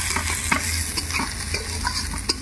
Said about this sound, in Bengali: এখানে পেঁয়াজটা ভালোভাবেই ভেজে নিয়েছি, এবার আদা রসুনটা দিয়ে দেবো।